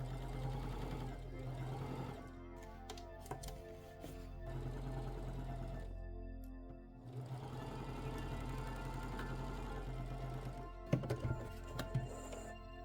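A home sewing machine stitches fabric for cloth lekku cosplay headwear in bursts of rapid mechanical whirring, pausing twice, with low motor hum underneath and a few handling clunks near the end, close and fairly quiet.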